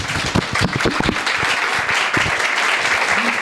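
Audience applause at a conference session on border technology: a dense, steady burst of clapping that lasts a few seconds and stays fairly loud throughout.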